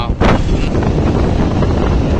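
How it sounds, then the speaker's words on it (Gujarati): Strong wind gusting during heavy rain and a hailstorm in Morbi, heard as loud roaring buffeting against the microphone that continues without a break. "અત્યારે ફૂલ વરસાદ ધોધમાર પડી ગયો અને હૈયે કરા અને પવન ને બધું ચાલુ છે"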